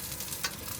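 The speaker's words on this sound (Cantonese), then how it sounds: "爆香啲洋葱先，" Onions are stir-fried in a hot wok with oil, giving a short, steady sizzle with a brief scrape of stirring partway through. It is close and moderately loud, with no talk.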